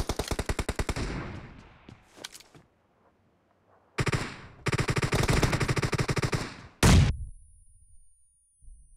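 Rapid automatic gunfire in the mobile shooter Battlegrounds Mobile India comes in fast bursts separated by silent gaps, ending with a single loud blast.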